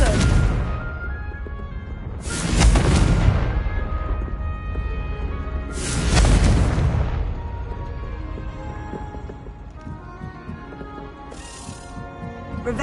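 Two loud blasting explosions from the Confringo spell in Hogwarts Legacy burst several seconds apart, each a sharp crack that trails into a rumbling decay, over a bed of background game noise.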